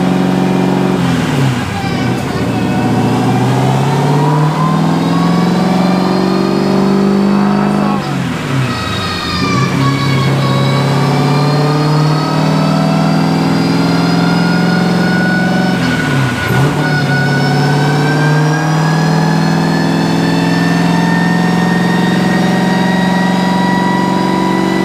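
A turbocharged LS-swapped BMW E36 engine runs hard on a dyno, a loud, sustained roar whose pitch climbs steadily through each pull, with brief dips between three long revs.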